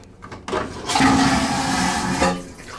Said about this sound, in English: the terrifying cruise ship toilet noise